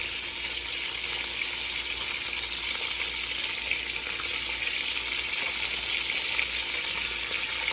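Cabbage sautés in a pan for oxtail and cabbage, hissing in a loud, continuous, even sizzle with no talking.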